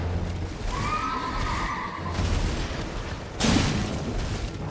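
A horse whinnies in Elden Ring as a mounted enemy fights, giving one drawn-out neigh near the start over a busy game backdrop, followed by a sudden loud boom or impact about two-thirds of the way through.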